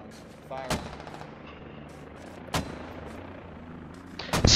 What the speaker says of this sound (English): HE rounds going down north